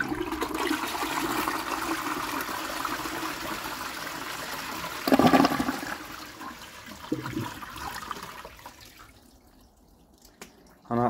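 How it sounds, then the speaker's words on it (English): A circa-2000 Qualitas Sandringham 7.5/6 litre close coupled toilet flushes with a loud, steady rush of water that surges mid-flow, then gradually fades into a gentle trickle and refill as the cistern empties. "Put the lid back on the toilet. Flush as well."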